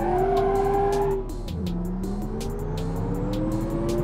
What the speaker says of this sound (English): And that supercharger noise, oh, I want that in automation game.